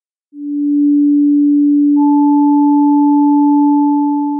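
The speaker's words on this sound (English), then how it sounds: "Now let's try the same approach with a sound composed of two sine waves." A steady pure sine tone starts alone and holds, then a second higher sine tone joins and the two sustain together at even loudness.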